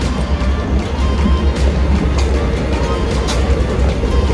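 A small train rolls past on the way to Amritsar, giving a loud, continuous low rumble with steady mechanical rattling throughout and no clear pauses.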